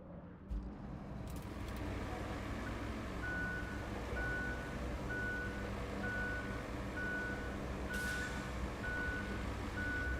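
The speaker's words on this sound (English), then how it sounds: "I guess it's a forward beeper too. Extra safe, chat. Just always constantly beeping." A truck's backup beeper in the Roadcraft construction game sounds a steady string of evenly spaced beeps over a constant low engine drone, with no talk.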